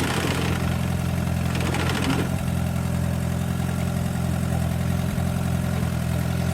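An Allis Chalmers tractor engine runs close and steady with a low rumbling idle while the PTO shaft spins, a brief rattling burst near the start.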